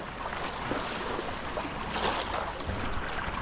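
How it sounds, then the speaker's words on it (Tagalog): Strong sea waves wash around a small fishing boat, a steady rough surge of water with slapping and splashing throughout, fairly close and moderately loud, with no voices. "malakas na rin ang alon, no?"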